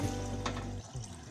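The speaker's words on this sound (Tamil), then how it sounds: "4 கப் மக்ரூனிக்கு 8 கப் தண்ணி சேர்த்திக்கலாம்." Water is poured into a pressure cooker for macaroni, a close, steady gush of liquid that tapers off and ends after about a second, with no talk.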